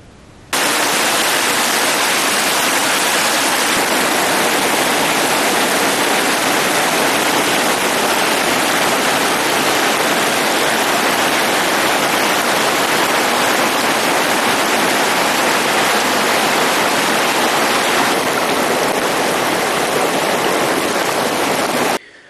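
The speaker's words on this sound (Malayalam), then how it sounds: "വെള്ളം കൈവരിയിലൂടെ ഒഴുകുകയാണ്" Floodwater pours over the side walls of a narrowed canal in Wandoor, a loud, unbroken rushing roar that holds steady for over twenty seconds with no talking.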